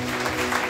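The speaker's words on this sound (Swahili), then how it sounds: "Piga Yesu makofi mazuri." A church congregation claps together at an anointing service, a brief, dense burst of applause.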